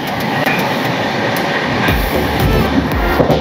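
Hirakhand or Dhauli Express in motion at sunrise, a loud continuous rumble with rhythmic clicks of wheels over rail joints, heard from close by inside the train.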